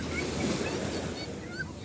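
Broad washing rumble of Mediterranean Sea surf at Cannes with wind noise buffeting the microphone, steady throughout the short stretch.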